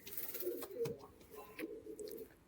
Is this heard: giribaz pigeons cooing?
yes